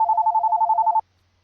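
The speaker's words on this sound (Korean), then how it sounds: "그때 갑자기 벨이 울렸습니다" An electronic telephone bell rings in a rapid warbling trill for about a second, then stops abruptly into silence.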